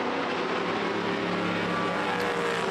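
Historic race cars, including Lola T70s and a Ferrari 512M, roar past on the wet Spa circuit, a loud, continuous engine drone close to the track.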